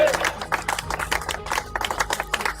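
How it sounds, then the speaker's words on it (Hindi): A university crowd breaks into a round of applause, with dense, uneven clapping from many hands close by and a voice speaking over it. "राउंड ऑफ अप्लॉज, तालियां इनके लिए, एवरीबॉडी तालियां"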